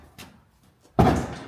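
A Ford Powerstroke diesel truck door slams shut hard and close, preceded by a couple of faint clicks and handling sounds.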